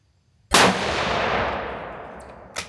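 A single loud, close .30-06 rifle shot from a Ruger American cracks out and fades in a long echoing tail. About two seconds later comes a short, fainter metallic clang of a bullet hitting a steel target.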